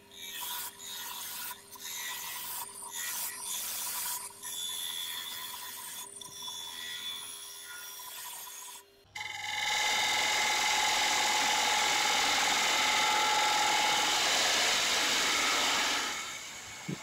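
A half-inch ball gouge scrapes and rasps as it hollows a shallow wooden bowl on a lathe. Intermittent cuts come first, then a loud, steady continuous cutting hiss with a whining hum, up close.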